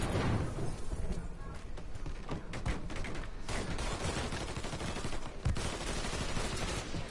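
Rapid bursts of gunfire in the Mafia 3 game, crackling shots and sharp cracks repeating close and loud, with one heavier impact near the end and little talk over it.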